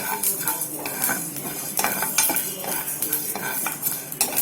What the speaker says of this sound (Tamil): கம்பு நல்லா வறுக்கும் போது படபடன்னு பொரியும்